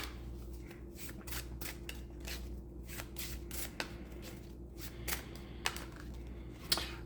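Tarot cards shuffled and drawn during a reading, a soft continuous riffle of card edges broken by a few sharper snaps and taps, faint and close with no talking.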